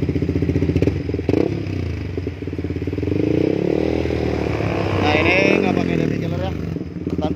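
Yamaha R15 motorcycle with a racing exhaust revs hard and close, the engine note climbing and holding at high RPM with crackles, while someone talks over it.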